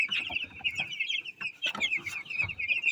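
Young broiler chickens on their fifth day, a flock of about a thousand, cheep and cluck in a steady, dense chorus of high peeps with soft clucks mixed in.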